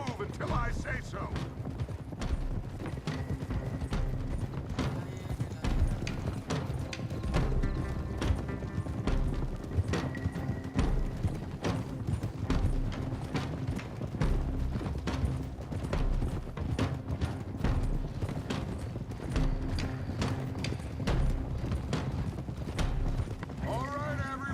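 Several horses gallop in the video game Red Dead Redemption 2, with a steady, rapid clip-clop of hooves running throughout, along with occasional creaks and a snort, while people talk over the riding.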